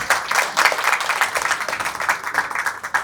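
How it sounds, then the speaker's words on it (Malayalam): An audience claps steadily at a Malayalam movie audio launch event, a dense, even applause lasting the whole stretch without pause. "നിറഞ്ഞ കയ്യടികളോടെ സ്വാഗതം ചെയ്യാം"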